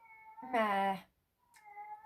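A domestic cat meows twice indoors, a clear close drawn-out meow followed by a shorter, softer one, with no talk over them.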